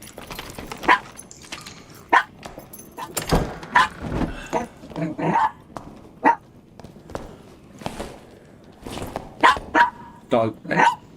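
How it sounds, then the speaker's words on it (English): A dog barks in sharp, scattered bursts amid constant talk during online multiplayer play of a hunting game, the barks standing out clearly over the chatter. "Hear the one bark."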